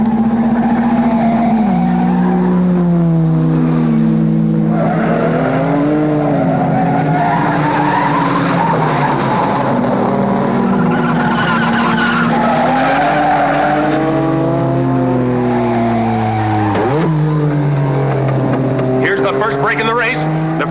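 Race cars roar around a track in a 1954 film, with engines rising and falling in pitch, tires squealing and skidding, and cars sweeping past loudly. Dramatic music and commentary run over the top.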